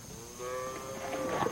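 Cattle on a Western ranch lowing in a steady drawn-out moo, moderately near, with no talk over it.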